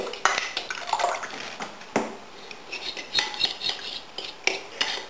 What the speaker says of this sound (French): je vais délayer la maïzena avec un petit peu d'eau froide